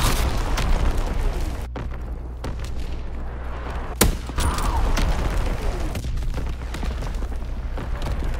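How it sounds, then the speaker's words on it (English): Enemy artillery explosions in a WW2 video game: a dense, continuous rumble of battle with sharp blasts at intervals, one standing out loudly near the middle. "Incoming enemy artillery!"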